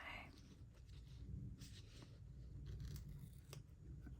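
Scissors snip through paper to trim a piece for a planner, a few quiet close cuts in succession against a faint room hum.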